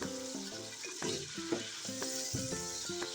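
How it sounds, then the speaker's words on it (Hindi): Marinated chicken fries in a pan, a steady sizzle running underneath background music, with occasional soft stirring scrapes and no talking. "उस चिकन को हम खूब अच्छी तरह से फ्राई कर लेंगे"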